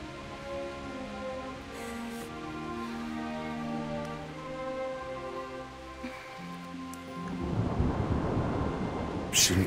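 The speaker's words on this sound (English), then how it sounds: "Not afraid of thunderstorms, are you?" Rain and rumbling thunder from a thunderstorm in the video game Kingdom Come Deliverance, starting as a low sustained rumble under a steady rain hiss, with the downpour swelling louder and closer near the end.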